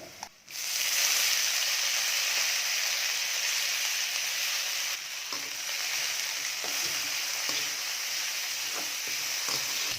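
Curry leaves hit hot oil with tamarind and other ingredients in a pan while making thogayal, bursting into a loud sizzle that settles into steady frying hiss with occasional stirring scrapes.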